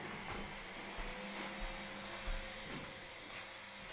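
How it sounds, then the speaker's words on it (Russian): A vacuum cleaner runs continuously with a steady high whine, its tone shifting slightly as it moves, with occasional soft bumps. "Я тут пылесосить буду."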